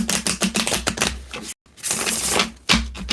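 A deck of tarot cards shuffled by hand, giving rapid papery clattering in two dense bursts split by a brief silent pause, close and fairly loud.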